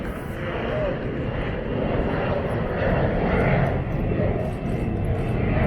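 Aircraft engine drone from a champions' team plane arriving at a welcome-home event, a steady loud roar filling the whole stretch with crowd noise and voices mixed in.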